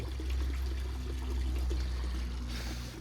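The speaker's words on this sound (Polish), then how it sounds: "jak ten filtr nie daje rady już, to żeby przelewami szła sobie woda" Water streams steadily through the overflow channels of a garden pond filter, a continuous close trickle and splash holding at an even level for the whole stretch with no voices.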